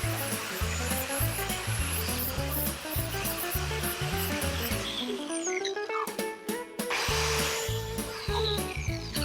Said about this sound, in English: you can see where the grinder's taking me